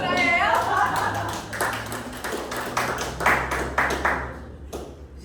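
An audience claps at a steady, even pace in a quick series of sharp hand claps that run on for several seconds, with a voice speaking over them.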